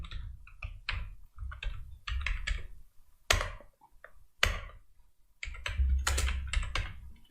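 C code being typed on a computer keyboard, quick bursts of close, crisp key clicks with short pauses and a few louder single strikes, no voices.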